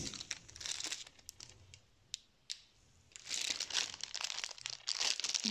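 Wrapping paper crinkles and crumples as a package is unwrapped, in bursts of crisp rustling with a quieter pause in the middle, close and moderately loud.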